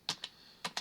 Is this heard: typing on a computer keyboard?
yes